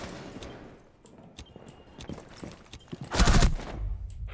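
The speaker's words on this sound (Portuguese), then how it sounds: "o Winter tá trocando tiro com a Frost lá" Rainbow Six Siege gunfire: scattered sharp shots, then a loud, dense burst near the end, with a low rumble trailing after it.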